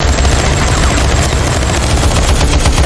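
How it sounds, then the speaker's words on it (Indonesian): Rapid, sustained burst of machine-gun fire, loud and dense, rattling continuously with a deep rumbling undertone. "langsung memberondongkan tembakan"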